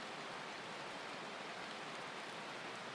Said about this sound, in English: I've got the sound of pouring rain in the background of my headphones